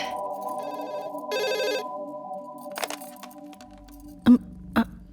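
An indoor telephone rings in short repeated bursts, fairly close, followed by a couple of sharp clicks and knocks with no talking.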